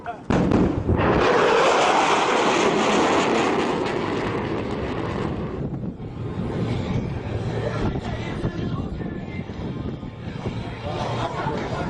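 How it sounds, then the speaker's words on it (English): Jet airplane roaring overhead, loud broadband rush swelling at the start and then fading into a long rumbling wash; wind buffets the microphone. "Watch the vapor build up on this airplane."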